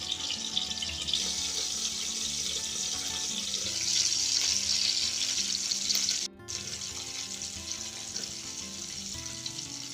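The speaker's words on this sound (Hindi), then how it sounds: "अब इन्हें थोड़ी थोड़ी देर के लिए ढककर बीच में चलाते हुए पकाते रहेंगे।" Stuffed tinda (apple gourd) frying in a pan while being stirred, a steady loud sizzle with scraping and stirring noises throughout and a brief cut near the middle, with no talking.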